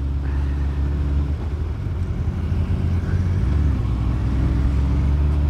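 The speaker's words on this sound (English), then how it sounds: "we've got cars coming other way" Cars drive along a road near a roundabout on the way to a seaside town, a steady loud rumble of engines and tyres passing close with no talk.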